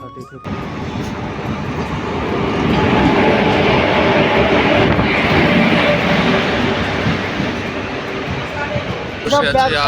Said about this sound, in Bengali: তিন নম্বর প্ল্যাটফর্মে আমাদের ট্রেন ঢুকবে